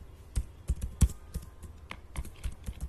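Someone types an Excel formula in capital letters on a computer keyboard, with a quick, uneven run of close, crisp key taps, some louder than others, and no talk.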